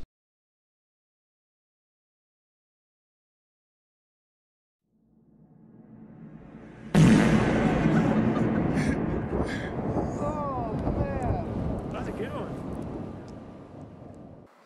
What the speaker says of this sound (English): And boom goes the dynamite.